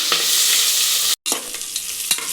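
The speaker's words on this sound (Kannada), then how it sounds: "ಇದನ್ನು ಒಂಚೂರು ಬ್ರೌನ್ ಆಗುತ್ತಂತ ಫ್ರೈ ಮಾಡ್ತೀನಿ" Thick-sliced onions and green chillies fry in a pan with a loud, steady close-up sizzle, broken by light stirring scrapes and one brief silent gap.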